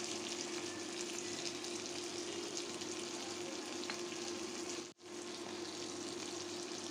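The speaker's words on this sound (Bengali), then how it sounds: "2 মিনিট ভাজলেই হবে।" Prawns fry in a pan with turmeric, giving a steady, dense sizzle and hiss that continues without pause except for one brief dropout, heard up close with no talk.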